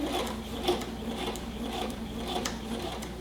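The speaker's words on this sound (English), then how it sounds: "I'm gonna go ahead and do a back stitch." Sewing machine back stitching at the end of a twill tape waistband seam, a steady rapid ticking needle rhythm, close and continuous.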